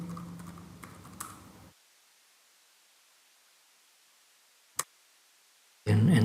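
Computer keyboard clicks as a username and password are entered, a quick run of keystrokes for under two seconds, then near silence with one sharp isolated tap before a louder noise cuts in at the end.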